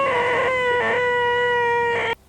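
A person imitates a noisy car fuel pump with a loud, sustained nasal buzzing drone quoted from a film, held for about two seconds before cutting off sharply.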